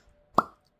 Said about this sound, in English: Anywho, cork pop.